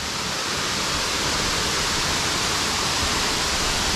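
Cascatinha Taunay waterfall in the Tijuca Forest, a powerful, constant rush of falling water close by, loud and unbroken, with no voices over it.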